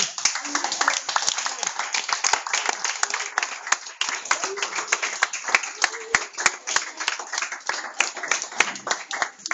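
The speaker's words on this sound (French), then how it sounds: "Et puis on peut bien les applaudir, je pense encore et encore des fois" An audience applauds young performers at a youth show, with dense, steady clapping that continues for several seconds at moderate volume and a voice faintly beneath it.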